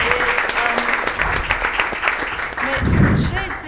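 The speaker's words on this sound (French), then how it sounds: "Ça s'applaudit s'il vous plaît." A seated audience claps for a woman being honoured, dense applause close and fairly loud throughout, with a low thump and brief voices underneath near the end.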